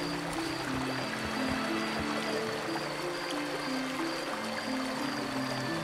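In the game The Night of the Rabbit, an item is dunked into a flowing stream, and steady running and trickling water fills the whole stretch over a low ambient drone, with no talk.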